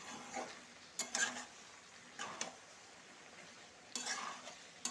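Beef with turmeric and black pepper stirred in a pot, with a few short, soft scraping bursts spread over quiet pauses.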